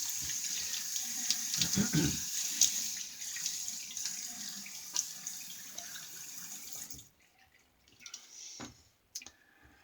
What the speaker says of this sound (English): So let's go ahead and wet our face.